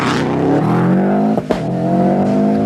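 A Subaru rally car at the 1998 Lurgan Park Rally sits on the start line of the first stage, its engine droning steadily and loudly up close, with a couple of sharp revs or pops in the middle.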